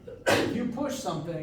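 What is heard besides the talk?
sneeze in a lecture hall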